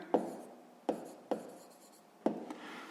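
A pen scratching answers onto paper during a sixth-grade maths exercise, with four or five short, distinct strokes spread over a few seconds, close and clear with no talking.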